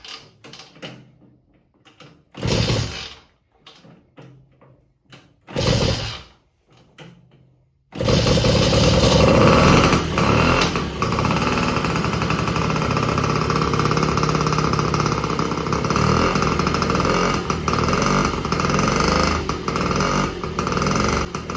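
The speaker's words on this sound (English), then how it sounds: "That's the beautiful sound of 3 horsepower of pure two-wheeled adrenaline." A rebuilt 1950 Indian Papoose three-horsepower two-stroke motorcycle engine gives a few short sputtering bursts, then catches and runs continuously with a loud, buzzing, slightly uneven idle close by.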